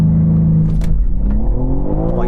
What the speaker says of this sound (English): let's launch the car